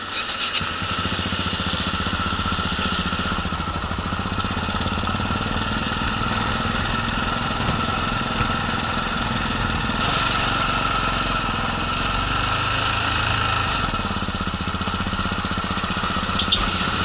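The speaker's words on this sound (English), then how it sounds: "I think my engine's already hot because the fan's going." A motorcycle idling on a Queenstown roadside with its cooling fan running, a steady rough engine drone and fan whir holding close and loud throughout, with the pitch shifting slightly at a couple of points.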